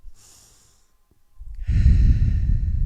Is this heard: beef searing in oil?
no